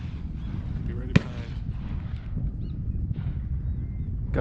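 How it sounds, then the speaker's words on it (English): A single sharp shotgun blast from waterfowl hunters at a duck-season opener cracks out once. Steady outdoor ambience and low voices surround it. "Gunshots already going off."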